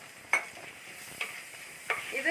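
Chopped medium-sized tomato stirred into a hot pan for a prawn curry, giving a soft steady sizzle broken by three short scraping stirs, close by and with no one talking.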